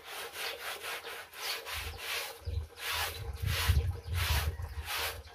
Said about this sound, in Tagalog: Brushan natin yung carpet mga kaibigan.